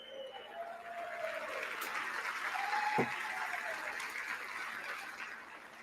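Steady applause fills the House chamber during the Speaker of the House election, a broad crowd patter that holds evenly throughout, with a brief sharp knock near the middle.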